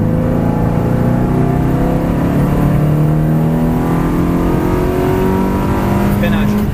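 A Ferrari 360 Modena F1 accelerates hard on the Mettet race track, its loud engine rising steadily in pitch right up close, while an instructor talks continuously over the roar.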